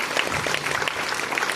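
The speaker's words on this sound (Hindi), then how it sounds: "गुरुदेव के सम्मान में जोरदार ताली।" Brief burst of audience clapping honoring a guru at a business motivational event, a dense patter of many hands at moderate volume.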